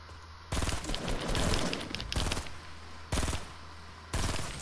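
Automatic gunfire in Fortnite, several loud close bursts of rapid shots with short pauses between them, no talk over them.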